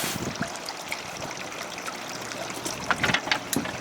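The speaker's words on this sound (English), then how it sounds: "And we proceed to rinse it off." Water rinsing cleaned paving stone after scrubbing, a steady close splashing and trickling wash with brief louder gushes near the end.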